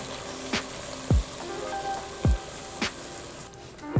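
Onions frying in a pan, a soft continuous sizzle broken by several sharp low knocks, fairly quiet and close.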